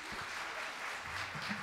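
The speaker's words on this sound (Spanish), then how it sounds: "Fuertes aplausos para él." An audience at an international seminar on developing entrepreneurial capacities gives a brief round of applause for a visiting speaker. The clapping is soft and distant, a short, even patter.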